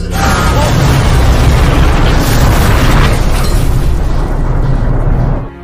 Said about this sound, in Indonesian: Dalam sebuah operasional ada satu kereta yang meledak.